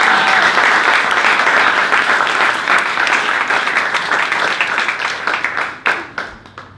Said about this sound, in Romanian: dar să-l aplaudăm pe Radu.